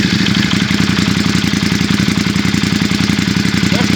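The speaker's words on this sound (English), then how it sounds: "There's cold start and idle." A Ducati XDiavel S motorcycle with a Termignoni exhaust idles after a cold start, giving a steady, close, loud throbbing pulse with no revving.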